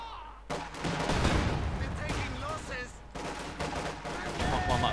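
Grenades explode in the World War II strategy game Company of Heroes 2 amid rattling gunfire and battle noise, a dense, continuous barrage of blasts and shots under a commentator's voice.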